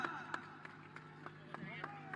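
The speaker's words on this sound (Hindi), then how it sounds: "जोरदार तालियों के साथ स्वागत होना" Crowd clapping in a brisk, steady rhythm to welcome Chief Minister Yogi Adityanath at the Nishad Party's tenth Sankalp Diwas gathering, fairly faint, with a voice talking over it.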